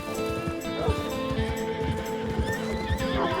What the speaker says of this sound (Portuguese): Outro bando de cavalos selvagens.